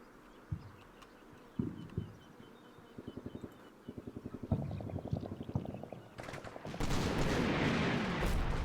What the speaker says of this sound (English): that's a mortar barrage and a half